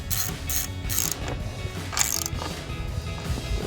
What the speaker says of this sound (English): We're gonna be using our 10mm socket to put our 2 bolts back in here.